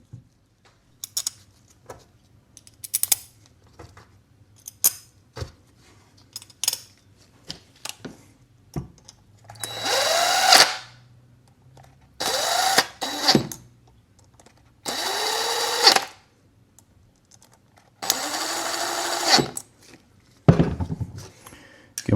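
A power tool, like an impact driver or drill, tightens bolts on a motorcycle part on a $200 mystery bike, in short bursts of whirring, the later bursts longer and louder, with clicks and handling noise between them.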